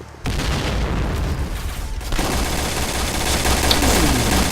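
Sustained gunfire in a video game match, loud and dense from about a quarter second onward, with a brief dip near two seconds before the barrage resumes through the end.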